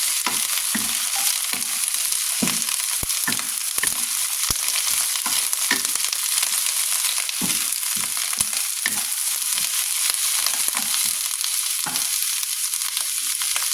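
Shrimp, meat and kale stir-fry in a hot pan with a loud, constant sizzle, while a utensil scrapes and taps the pan in quick, irregular strokes.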